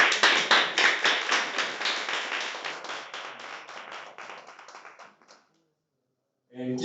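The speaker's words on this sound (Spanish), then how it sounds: "Les damos un último aplauso, por favor." An audience at the end of a seminar talk on mathematical foundations for quantum computing claps steadily for about five seconds, tapering off into silence, before a voice begins speaking.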